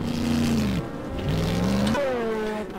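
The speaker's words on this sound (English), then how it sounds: "The BWM car go back on track" BMW race car at the 6 Hours of Sebring endurance race rejoining the track, its engine droning steadily and rising in pitch as it accelerates away, heard alone without talk.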